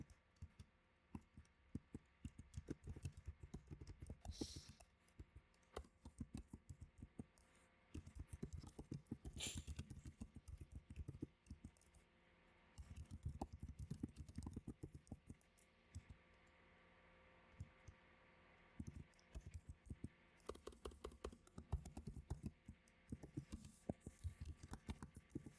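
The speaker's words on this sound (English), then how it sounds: "Typing." Quiet, irregular clicking of typing on a computer keyboard continues in scattered bursts with short pauses, close by and faint, with no talking.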